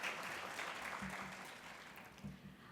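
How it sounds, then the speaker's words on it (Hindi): An audience at a Hindi kavi sammelan poetry gathering at Pune International Centre claps to welcome a poet, giving a soft, sustained patter of applause heard from a distance that gradually thins out. "जोरदार तालियों के साथ स्वागत कीजिए"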